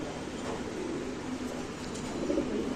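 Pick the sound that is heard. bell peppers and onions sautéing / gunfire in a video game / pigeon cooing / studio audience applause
pigeon cooing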